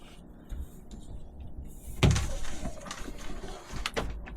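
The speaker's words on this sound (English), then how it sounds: "we have concertina doors here where you can basically go" Concertina doors inside a new caravan slide across with one sharp bang partway through, followed by light rattles and clicks against a quiet background.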